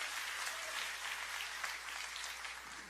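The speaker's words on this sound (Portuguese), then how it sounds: "Você pode aplaudir o Senhor aqui?" Church congregation applauding the Lord during a sermon, a dense, steady wash of many hands clapping at once, sustained and fairly loud with no break, no voices standing out.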